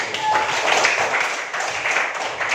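A classroom of students claps hands together in a dense, steady round of applause lasting a couple of seconds, close and fairly loud, with some voices mixed in.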